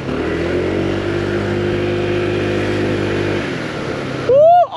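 A 2023 Honda PCX scooter accelerates while being ridden, its engine drone climbing steadily in pitch, then giving way to a brief rising whine and a loud burst of wind rush near the end.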